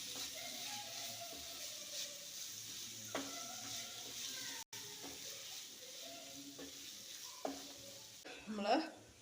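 Boiled macaroni being stirred into a pan with tomato sauce, a faint low sizzle with occasional scraping knocks of a spoon against the pan, quiet and close, ending in a brief louder clatter.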